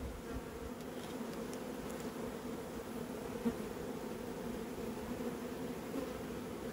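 Honeybees swarm over a hive frame in a steady, close buzzing drone that holds evenly throughout, with no talking.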